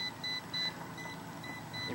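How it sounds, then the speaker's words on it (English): Fieldpiece SC56 clamp meter's non-contact voltage tester giving short, high-pitched beeps in an uneven on-off pattern, moderately loud and close, with no talk over it. "you put it on a negative, it'll beep."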